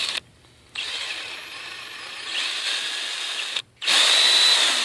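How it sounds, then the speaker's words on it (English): A power drill bores into a maple tree to tap it for sap, whining loudly in bursts with two brief pauses, the pitch shifting as the bit bites deeper into the wood. "when you drill, you want to drill with just a slight angle up"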